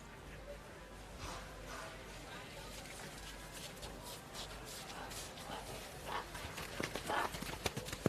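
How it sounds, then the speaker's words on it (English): A 15-year-old gelding clip-clops through a campdraft ladies' event at a Western championship, faint hoofbeats under steady outdoor ambience and a crowd. "competitor number 83, Annette Fitzgerald, riding a horse called Bruce"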